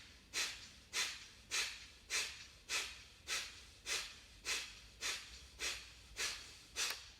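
A group practicing a yoga breathing exercise exhales together in a steady rhythm, about eleven soft, breathy outbreaths roughly every 0.6 seconds, each swelling and fading, close and fairly quiet with no talking.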